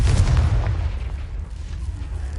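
A Confringo blast spell explodes in Hogwarts Legacy, a loud, deep boom right up close that hits at once and then rumbles away into a fading tail.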